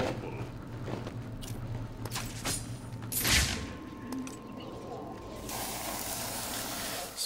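Explosive gel sprayed in Batman: Arkham City, a brief hissing spray burst near the middle over steady low game ambience and music, followed by a lingering broadband wash.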